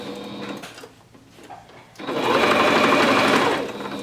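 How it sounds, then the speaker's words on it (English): A sewing machine stitches through towel fabric for a scrunchie, starting after a quiet pause and running as a loud, steady, close whirring hum for about a second and a half before easing off. "I'm just making sure that the little inside tube isn't in the way while I'm stitching"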